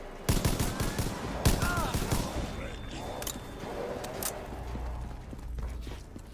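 Rapid gunfire from a weapon in Black Ops 3 custom Zombies, with repeated sharp bursts and shots up close in the game, mixed with game noise and a player talking over it.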